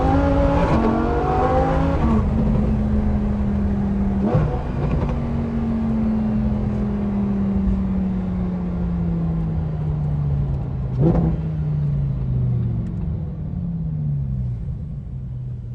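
A car driving on a track with a deep engine rumble, revs rising and falling in long sweeps, and a couple of sharp bursts along the way, loud and steady throughout with no talking.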